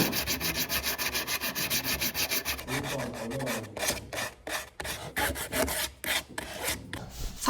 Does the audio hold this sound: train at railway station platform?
no